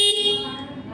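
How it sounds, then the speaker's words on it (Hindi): A Honda Activa 125 scooter horn gives a short, bright, buzzing honk that is loud at first and then fades over under a second, with no talking. "बहुत लाउड हॉर्न है भाई।"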